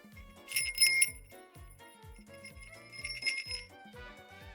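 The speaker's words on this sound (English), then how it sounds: "the plushie has a little bell on its little split there." Small real bell attached to a plushie, two bright bursts of close jingling separated by a pause, set against soft background music.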